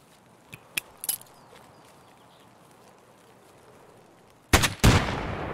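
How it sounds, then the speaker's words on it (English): Shotgun fire in Escape From Tarkov, loaded with AP slug rounds: a few faint distant pops early on, then two loud, close blasts near the end with a lingering rumble. "Oh, I got him with the shotgun."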